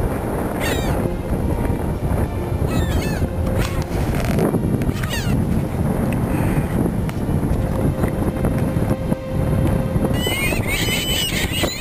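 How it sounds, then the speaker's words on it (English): Wind buffets and rumbles across the microphone outdoors at Coulee City, Washington, with seagulls crying faintly and a voice or two in the background. "It is windy when we stop for lunch at Coulee City"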